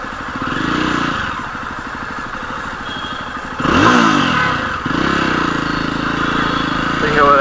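A BS6 Jawa Perak motorcycle with a dual exhaust system rides along, its engine thumping and revving up through gear changes, loud and close, while someone talks over it.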